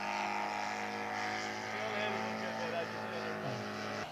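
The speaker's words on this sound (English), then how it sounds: "Gary Parker's taking off with Dick Heining's Antic for the Classic Air Race on Sunday." Scale model aircraft, an Antic, taking off for a classic air race, its engine a steady buzzing drone throughout that dips slightly near the end.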